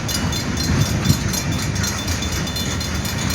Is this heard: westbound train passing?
yes